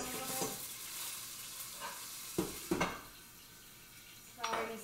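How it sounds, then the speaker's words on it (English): Garlic frying in a home kitchen pan, a soft, steady sizzle with a few sharp clanks of utensil against the pan scattered through it. "It's already sizzling."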